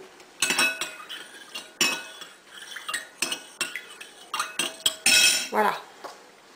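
A metal spoon stirs strawberry syrup in a bowl for tiramisu, clinking repeatedly against the sides in an irregular run of sharp taps and scrapes, close and fairly loud with no voices.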